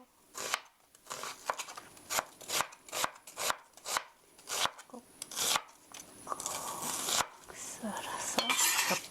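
A knife chops vegetables on a cutting board for japchae in a rapid, steady run of sharp close strikes, then gives way to softer scraping and handling sounds.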